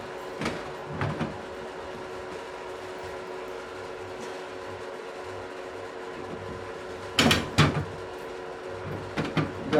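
A door is fitted onto a 2014 KitchenAid refrigerator under repair, with a few scraping, sliding knocks as the tops are pushed into place against a steady low hum, with louder clatters near the end.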